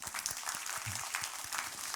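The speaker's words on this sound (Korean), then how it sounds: "축복의 박수하겠습니다" A church congregation claps together in a brief, dense burst of applause heard from within the sanctuary, moderately loud and continuous for about two seconds.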